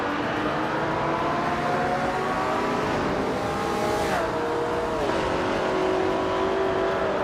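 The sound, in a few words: 1967 Plymouth GTX racing in a video game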